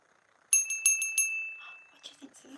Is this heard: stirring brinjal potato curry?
no